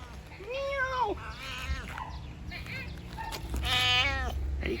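A cat meows several times nearby in a Hong Kong village. Two long, clear meows stand out among shorter ones, over a steady background hum.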